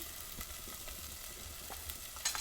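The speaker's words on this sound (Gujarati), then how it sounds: "હવે આપણે આ બટાટાનો સૂંડો છે એ નાખી દઈએ" Diced potato drops into hot oil already sizzling with spices and soft green chillies, giving a steady close crackle with a few sharper pops and a brief stir near the end.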